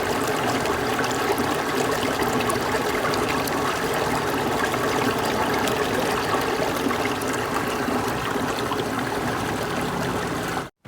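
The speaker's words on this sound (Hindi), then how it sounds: "ये देखें, पानी लग रहा है।" Irrigation water flowing steadily into a rice field in a village, a continuous close gushing and splashing trickle at even loudness throughout, with no talking over it.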